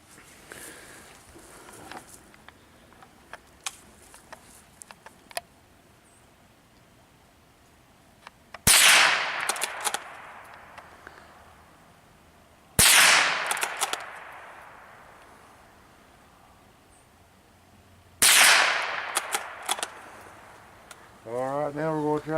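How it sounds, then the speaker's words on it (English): A Marlin XT bolt-action rifle fires across a road, three sharp loud shots spaced several seconds apart, each with a decaying echo, amid quiet outdoor handling noises. "got the XT Marlin over here. We're going to try to take a few pot shots across the road."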